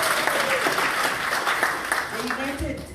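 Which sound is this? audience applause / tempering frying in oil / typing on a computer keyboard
audience applause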